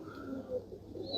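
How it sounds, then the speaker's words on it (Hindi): Deep-toned Rampuri pigeons, a dark-coloured Indian breed, coo softly in low, rolling phrases that rise and fall over about a second, fairly faint and with no voices. "ये गहरे मको कबूतर हैं"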